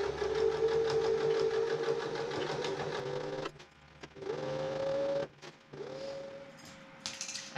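A sewing machine hums steadily as it stitches a double hem in heavy curtain fabric for reupholstering an antique chair, running in a few bursts that stop and restart with short quiet gaps between them.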